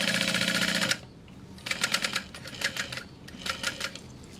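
A sewing machine stitches a SWIG bag, first in a fast steady burst, then after a pause in short rattling runs of stitches, close and fairly loud.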